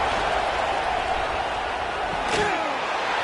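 Crowd noise roars steadily in a video game football match on PS5 as fans get behind the defense before a big third down, a dense wash of cheering with a brief sharper burst near the end.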